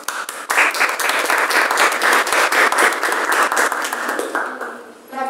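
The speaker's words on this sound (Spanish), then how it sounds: "Un aplauso." Audience applause at a live event, a sustained burst of dense clapping that fills the whole moment, fairly loud and steady before easing slightly toward the end.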